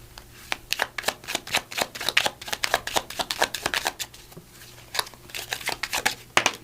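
Tarot cards are shuffled with rapid, crisp riffling bursts and snaps, close and fairly quiet, repeating in quick irregular runs with no talking.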